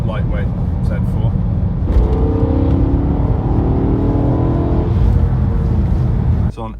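A V8 engine swapped into a lightweight BMW Z4 coupe idles and revs steadily at close range, with a brief rise in pitch partway through, under a voice.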